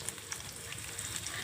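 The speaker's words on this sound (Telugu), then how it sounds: "ఇప్పుడు తాలింపు వేస్తున్నాను." Garlic and dried red chillies sizzle in hot tempering oil, giving a constant close crackle and hiss with tiny pops throughout.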